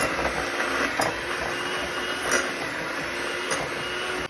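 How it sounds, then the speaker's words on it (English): An electric mixer shreds cooked chicken in a bowl covered with a towel, giving a steady, close whirring rumble with a few faint periodic knocks and no voices. "I'm gonna mix this up until it's shredded."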